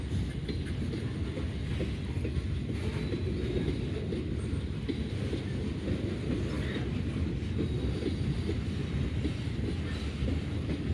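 Freight train cars passing at a rail crossing in Greenwich, Ohio, a continuous rumbling roll with steady wheel clatter, fairly close and uninterrupted, with no voices.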